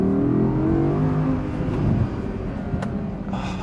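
Audi R8 V10 RWD sports car driving, a steady low engine drone with a constant rumbling tone throughout and a brief higher whoosh near the end, heard from inside the cabin.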